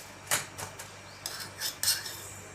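Spoon stirring roasted rice bhel in a bowl, a few quiet scraping and clinking strokes in an uneven rhythm, close up with no talking.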